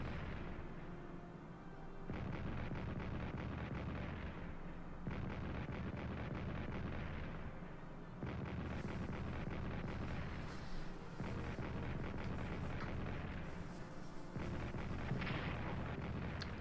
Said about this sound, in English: And now the artillery fire on Metz.